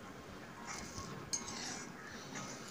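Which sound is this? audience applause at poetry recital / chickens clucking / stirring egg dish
stirring egg dish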